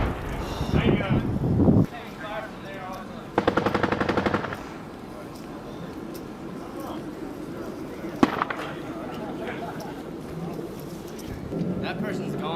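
Machine-gun fire rattles out in bursts, loud and close at the start, with another hard burst a few seconds later and scattered single reports after, all amid field noise and voices talking during a combat operation in Afghanistan.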